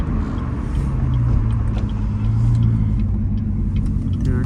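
Corvette driving at night, a steady low engine rumble and road noise from inside the car, loud and continuous with slight swells.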